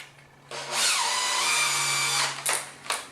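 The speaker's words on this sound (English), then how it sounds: "And I'm going to try to drill right there in the center." A cordless power drill bores a hinge hole in a slab door, a single whining burst lasting about two seconds that rises in pitch as it spins up, followed by two short trigger blips, close and clear.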